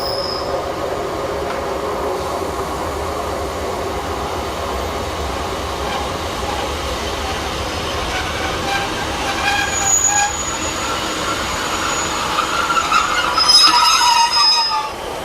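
A British Rail Class 156 diesel multiple unit in First Great Western livery, working for Northern, stands at Hope station, giving a steady engine rumble with faint wheel squeal and rising mechanical tones toward the end, fairly close.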